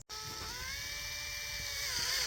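A power drill whirs steadily as it drives a screw over 3 inches long at a slight angle, attaching a leg to a wooden tabletop. The whine runs continuously and loud, with no talk.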